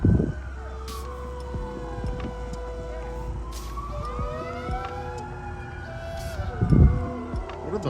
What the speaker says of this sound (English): What are those sirens?